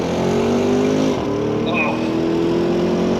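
Porsche Cayenne GTS Coupé engine, a deep loud growl held steady then dipping and climbing again as the revs shift, close and prominent, with a brief spoken exclamation over it.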